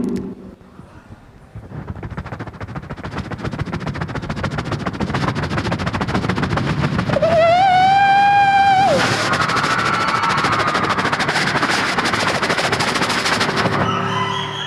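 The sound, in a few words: beatbox imitation of old steam engine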